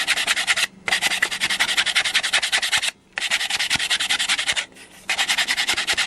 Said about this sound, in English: I'm using quite a thick rough sandpaper with a sanding block, and we're just going to sand away that edge.